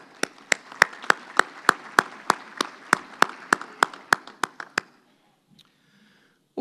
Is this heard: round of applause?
yes